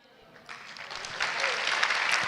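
An audience at a stand-up comedy show starts clapping, building from scattered claps into fuller applause over a couple of seconds.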